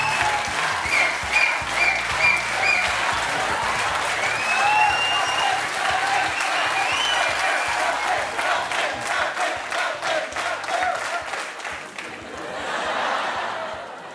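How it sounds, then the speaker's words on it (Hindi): Sustained audience applause at a televised interview show, loud and continuous, with crowd cheers and bits of laughter mixed in, fading briefly near the end before a final swell. "तो ये तालियां बजती रहनी चाहिए"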